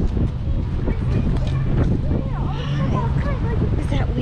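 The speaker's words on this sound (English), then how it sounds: "Is the wind getting you?" Wind blowing outdoors at a roadside stop, a steady loud rumble under people talking close by, with a child's and adult's voices overlapping throughout.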